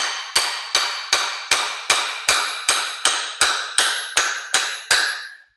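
Twelve heavy blows from a big hammer strike metal steering parts on a Ford F100 at a steady, even pace, each a sharp ringing impact with a brief decay. The blows are close and loud, with no voices.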